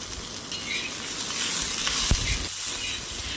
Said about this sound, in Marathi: मिरची लसूण त्याला आपण छान मऊ होईपर्यंत छान खरपूस असे भाजेपर्यंत परतून घ्यायचं आहे